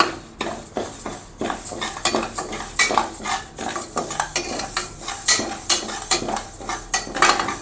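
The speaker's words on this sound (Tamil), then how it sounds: "லைட்டாக அந்த பாசிப்பருப்புலேருந்து வாசனை வர லைட்டாக தான் வறுக்கணும், ரொம்ப கருக்க வச்சுடாதீங்க." Moong dal dry-roasts in a pan while a metal spoon stirs it continuously, making loud, rhythmic scraping and rattling strokes with a rustle of the dry lentils throughout.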